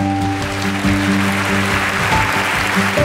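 A summit audience for European changemakers claps loudly and steadily for about three seconds, with a constant musical hum running underneath.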